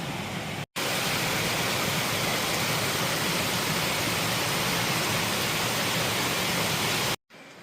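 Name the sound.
river flowing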